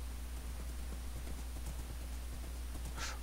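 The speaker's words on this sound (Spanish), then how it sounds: "A ver, no corras tanto, caballo, que nos vamos por hoyos." Game horse hooves clip-clop in quick, steady rhythm as a horse runs at night, moderately loud over a constant low ambient hum.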